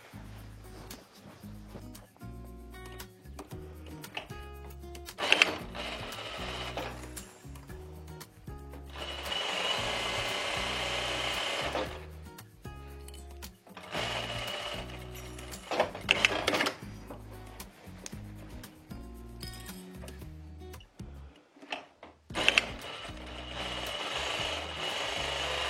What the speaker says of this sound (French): on va venir piquer ces 2 côtés